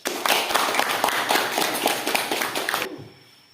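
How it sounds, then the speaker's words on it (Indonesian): A classroom group of students claps together in a quick, dense burst of applause lasting about three seconds before stopping abruptly. "Jadi tepuk tangan kepada semua kelompok karena bisa menyimpulkan hari ini"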